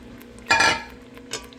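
A brief clattering scrape as tomato mixture is tipped and stirred into a cooking pan for paneer gravy, one dense burst of metal-on-metal clinks followed by a fainter knock, close and fairly quiet with no talk.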